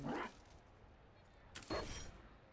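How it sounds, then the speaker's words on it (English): Dog in the Trespasser game, two short, faint barks or yips about a second and a half apart against a quiet background. "I like how the dog is barking at every single one."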